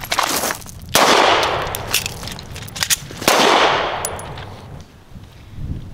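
Shots from a Walther PDP Compact pistol at a range, several loud sharp reports in an uneven sequence with ringing echoes and decaying tails between them.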